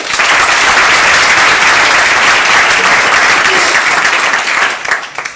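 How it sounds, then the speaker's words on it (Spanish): Sustained audience applause at an awards ceremony, dense and loud clapping filling the whole stretch before tapering slightly at the end. "Por favor, un aplauso para el jurado."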